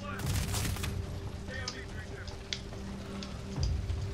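Gunfire from the Medal of Honor Warfighter video game, a dense continuous fusillade of shots and small booms with crackling, sizzling fire underneath, steady and loud throughout with no talk.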